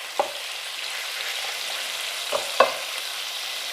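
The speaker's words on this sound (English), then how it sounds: "I want to spread this out in my skillet." Chicken pieces are spread into a hot skillet, giving a steady broad sizzle with a few sharp clinks and scrapes from the pan and utensil.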